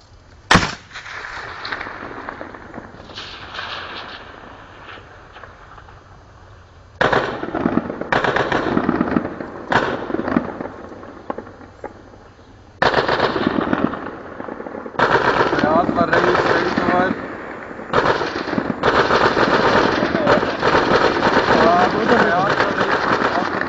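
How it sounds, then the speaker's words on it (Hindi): Bursts of rapid automatic gunfire during an army operation in Swat, Pakistan, crackling loudly in long sustained volleys with short pauses between them, after a single sharp opening shot. "मैं फायर कर रहा"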